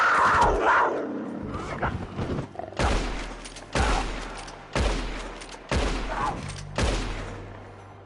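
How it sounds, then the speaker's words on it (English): Gunfire in the video game Red Dead Redemption 2: about five loud, sharp shots at a steady pace of roughly one per second, each with a short echoing tail, after a brief stretch of confused commotion. "Good shooting, señor."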